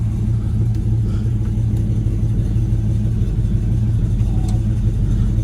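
A 1967 Camaro SS350 V8 idles steadily with a deep, loud, even rumble close by, running without pause throughout.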